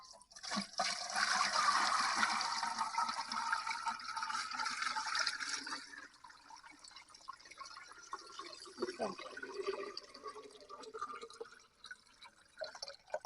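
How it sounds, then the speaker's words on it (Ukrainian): Water gushes steadily into a metal autoclave over jars for several seconds, then eases into lighter trickling and splashing. "І заливаємо водою, щоб покрили банки."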